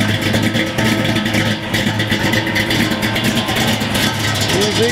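Carbureted small-block V8 in a Chevrolet C10 pickup, fitted with a Muthr Thumper cam, revs with a choppy, loping idle; the engine runs steadily and loud through the whole stretch, without pauses.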